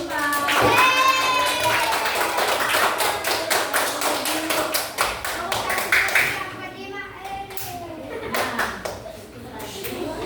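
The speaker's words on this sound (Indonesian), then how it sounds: "Tepuk tangan untuk kelompok 4." Schoolchildren in a classroom applaud group 4, with dense, rapid clapping that fades and then picks up again alongside children's voices and an adult speaking.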